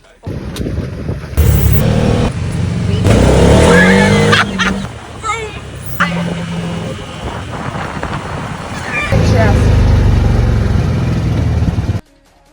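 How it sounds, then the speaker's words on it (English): Buggies driving through a vineyard in Croatia, engines droning and revving loudly with bursts of acceleration and wind buffeting, while people talk and shout over the motor noise. "we took buggies and drove through the vineyard and ended up at this beach bar."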